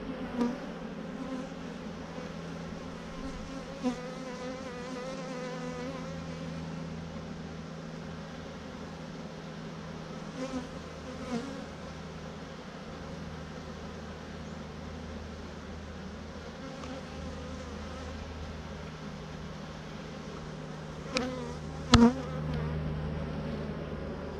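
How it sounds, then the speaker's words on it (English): Honeybees buzz in an open hive at a bee yard on a ten-acre farm, a dense, steady drone throughout with a few soft knocks and clicks near the end, no talk. "They're laying, the queen's laying."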